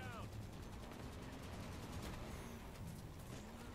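Rapid automatic gunfire from Halo 5: Guardians combat, dense and continuous at moderate loudness, with voices talking over the shooting throughout.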